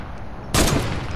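Gunfire aimed at a wall in the video game Fortnite: after a quiet moment, a sudden loud burst of rapid shots erupts and carries on to the end, close and harsh.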